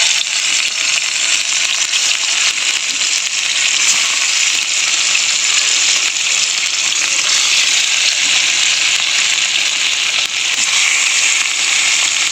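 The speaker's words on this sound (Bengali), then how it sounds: "তাই যে মাছগুলো আগে ভেজে নেব" Fish pieces coated in salt and turmeric fry in hot oil with a loud, dense, continuous crackling sizzle that stays near and steady the whole time.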